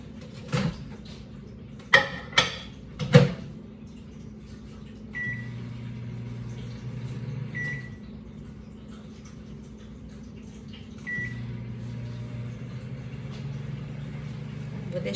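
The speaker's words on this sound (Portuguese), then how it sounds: "eu vou colocar no micro-ondas por 1 minuto e 45." Microwave oven running while cooking a single portion of couscous, a steady low hum with a few soft clicks and knocks near the start, followed by several seconds of continuous droning hum.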